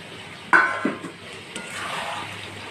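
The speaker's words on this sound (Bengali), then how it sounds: "দেখো বন্ধুরা, দই চিকেন হচ্ছে।" Yogurt chicken with sour yogurt and split green chillies cooks in a pan: two clanks of stirring against the pan, followed by a soft, steady sizzle of frying.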